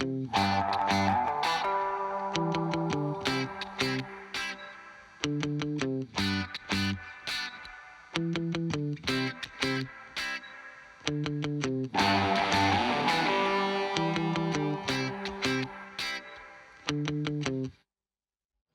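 Muted rhythm guitars with clean tones through a Fender Deluxe amp play a subtle groove of short, choppy plucked chords, dry and punchy with brief gaps, running alone for about eighteen seconds before stopping.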